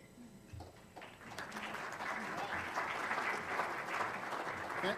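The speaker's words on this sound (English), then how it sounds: "Thanks for that smattering of applause." A modest scattering of applause from a meeting audience builds after a quiet start, a thin continuous patter of hands with some room noise underneath.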